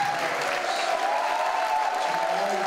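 Graduation ceremony crowd at Flashpoint Chicago in 2018 applauds in a thick, even wash of clapping, with a faint sustained tone riding above it.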